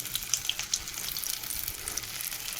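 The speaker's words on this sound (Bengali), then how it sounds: "একটু ভাজা হোক" Steady, close sizzling of food frying in a pan, a soft crackling hiss with occasional pops and no voices.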